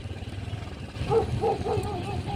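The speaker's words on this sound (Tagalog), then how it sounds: "Sa unahan may aso, tapos sa likuran may aso." A few short dog barks or yips, somewhat distant, over low outdoor rumble and background noise.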